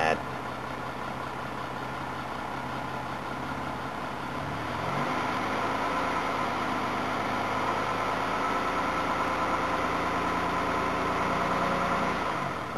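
Old car engine that sat unused for a month, jump-started with a jumper pack and no choke, cranking briefly before catching into a steady, loud idle that runs on continuously, with someone talking over it.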